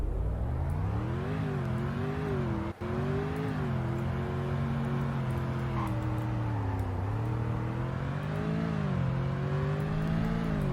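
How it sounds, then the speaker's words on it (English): A 2019 Stuttgart Landschaft car driving, its engine droning steadily and rising and falling in pitch as it revs through gears, loud and close with a brief dropout near the start, no talking. "And here's what it sounds like to drive."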